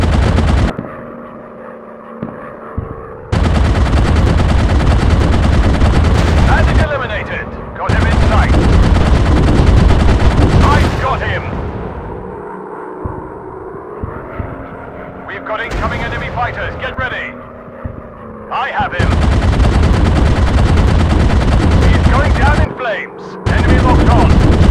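World War I fighter plane machine guns in Warplanes WW1 Sky Aces, long loud sustained bursts separated by short gaps, over a constant droning engine hum, with a voice speaking in places.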